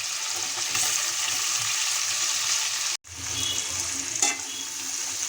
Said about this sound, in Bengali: পেঁয়াজগুলো ভেজে নেব।